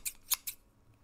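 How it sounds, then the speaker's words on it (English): Sharp scissors snip through a worn bamboo linen bedsheet in three quick, crisp cuts close by, followed by quiet. "Is there anything more satisfying than a really sharp pair of scissors?"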